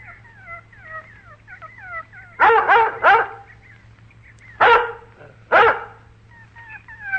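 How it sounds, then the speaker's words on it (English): A dog barks in an old-time Lassie radio drama: a quick double-triple bark followed by two single sharp barks, over light chirping background tones. "That darn dog gets my knife."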